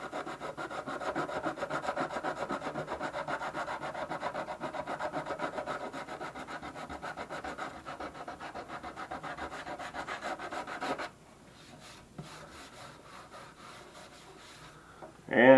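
Sandpaper rubs steadily back and forth across the dyed finish of a Harmony Roy Rogers guitar body. The rasping strokes are continuous and close for about eleven seconds, then become quieter, and a louder knock comes at the end.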